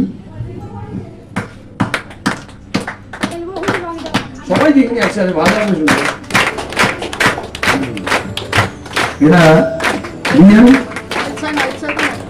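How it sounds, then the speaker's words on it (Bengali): A group claps hands together in rhythm, a steady run of sharp, close slaps that grows fuller partway through, while people talk and a voice counts in over the clapping. "আমি যেরকম ভাবে তালিটা দিতে বলবো সেই রিদিমে তালি দিতে হবে"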